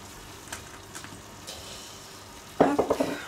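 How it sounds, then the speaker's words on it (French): Turkey risotto being stirred in a pan, a spoon scraping and knocking against the metal in a quick burst of several strokes near the end, preceded by a faint kitchen hiss. "Maintenant on mélange."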